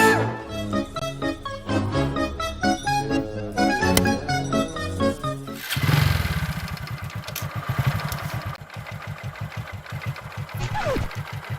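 A motorcycle engine fires up after a stretch of music, then settles into a steady, close, pulsing run that continues to the end, with a voice speaking over it.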